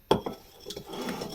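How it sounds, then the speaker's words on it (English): A utensil stirs a budget stir fry in a pan, with a sharp clack of metal, then soft scraping and shuffling close by. "now for the big stir round."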